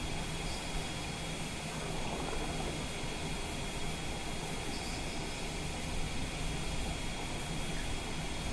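Steady, even roar of a Vision jet's engine in a flight simulator game, a continuous broadband drone holding constant for several seconds with no voices over it.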